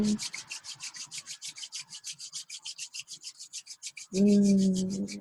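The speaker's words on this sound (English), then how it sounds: "Rubbing the hands together one more time." Two hands rub together in a steady back-and-forth rhythm of about twenty close, soft swishing strokes, and a low hum or voice joins for the final second.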